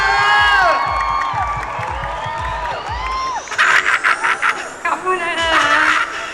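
A lively crowd of children and adults at a stage game show cheers and whoops, with scattered clapping and rising excited shouts, loud and close, swelling in bursts toward the end.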